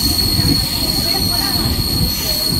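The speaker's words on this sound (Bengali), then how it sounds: "কোলাঘাট স্টেশনে আমাদের গাড়ি ঢুকেছে।" A local train pulls into Kolaghat station, its steel wheels squealing steadily against the rails over a low, continuous rumble of the moving carriages, loud and close throughout.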